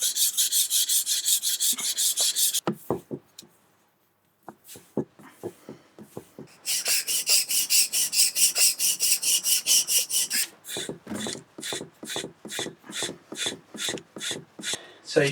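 A Luban (Qiangsheng) #62 low angle jack plane shaves wood with long, loud rasping strokes, first a sustained pass, then a pause, then a rapid series of short rhythmic strokes close by.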